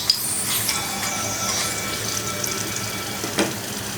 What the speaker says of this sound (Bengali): তেল গরম হয়ে আসছে, এখন আমি শুকনো মরিচগুলো ভেজে নেব